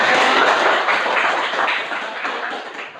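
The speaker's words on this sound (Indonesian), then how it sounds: "Tepuk tangan dulu." Students in a classroom guidance session clap together, making a short, steady patter of many hands nearby that fades slightly toward the end.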